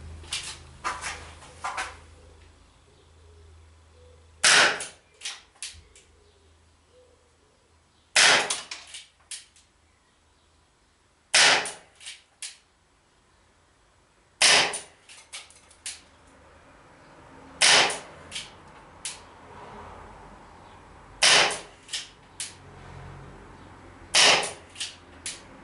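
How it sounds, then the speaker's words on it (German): A Beretta 92 FS CO2 air pistol firing 4.5mm diabolo pellets in single action. Eight or so sharp, close pops come at irregular intervals over quiet background, each with a brief metallic ring. "Werde ein Magazin verschießen, also 8 Schuss, aus 8 Meter Entfernung."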